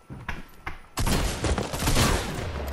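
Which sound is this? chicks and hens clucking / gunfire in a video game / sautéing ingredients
gunfire in a video game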